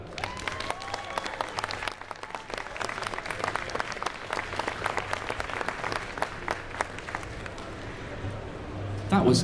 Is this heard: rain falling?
no